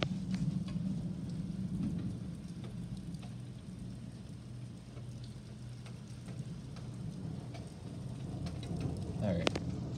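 Heavy rain falls steadily through a pop-up thunderstorm, with a low rumble of thunder rolling underneath and a sharper crack near the end; a voice is faintly present.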